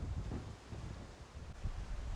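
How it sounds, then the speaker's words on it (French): Wind blowing outdoors, a steady low rumbling buffet with gusts that swell and fade over about two seconds, fairly close and moderately loud with no voices. "Regarde le vent, tu vois là? Tu le sens bien."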